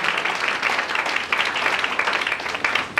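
A church congregation claps and acclaims God during a worship service, with lively, dense applause and scattered cheering sustained throughout.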